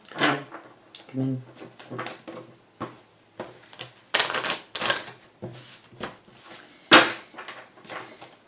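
Tarot cards being shuffled for a love reading, a run of soft riffling and flicking bursts with a few sharper slaps, heard close alongside a woman's speech.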